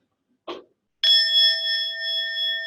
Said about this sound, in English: Hearing a sound of the bell,